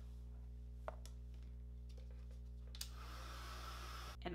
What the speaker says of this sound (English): we're going to go ahead and heat set it.